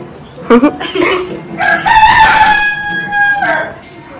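Short voice-like sounds come first, then a rooster lets out one long, loud crow nearby that fades at the end.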